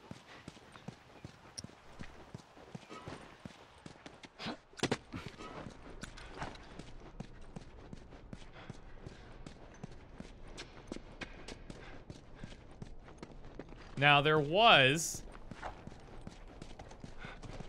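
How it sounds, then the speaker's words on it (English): Horse hooves clip-clop at a steady walking rhythm in The Last of Us, close and moderately loud, with someone talking briefly over them and a short warbling voice-like sound near the end. "Let me get on this horse here."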